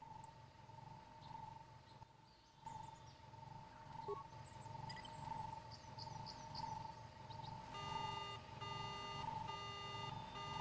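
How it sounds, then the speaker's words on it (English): An alarm system is activated in the game KOTOR and begins sounding as a rapid, repeating electronic beeping pulse. It cuts in partway through, over a humming background with scattered chirps. "activate the alarm"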